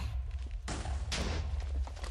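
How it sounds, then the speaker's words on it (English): An explosion in the Dino Ball game on MCC Island in Minecraft, a loud sudden blast followed by a second burst of rumbling noise, close and dominant. "that's a explosion"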